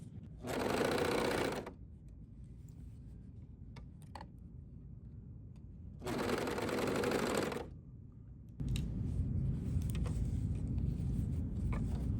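A serger sewing machine runs in two loud, even bursts as it stitches fabric flat, separated by a quiet pause. A lower, steady mechanical hum follows and continues to the end.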